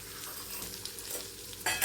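Peanuts and capsicum sauté in a hot pan with a soft, continuous sizzle and light stirring scrapes, ending in a brief louder burst of frying.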